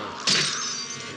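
Glass shatters in a single sharp, close crash from a 1973 martial arts film scene, the bright burst fading over about a second.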